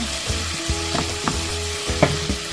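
Bitter gourd (ampalaya) and egg stir-frying in a pan, a steady close sizzle broken by several rhythmic scraping strokes of a utensil stirring the food.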